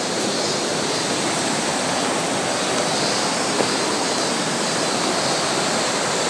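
A river at an abandoned tea farm in Japan rushes loudly and steadily, a dense unbroken wash of flowing water close by with no voices.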